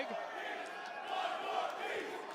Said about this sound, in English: The crowd is chanting, one more piece.